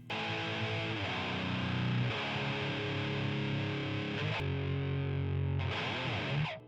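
Heavily distorted electric guitar playing a metal cover riff with a slide, a thick sustained wall of sound with brief pitch glides and short breaks between phrases.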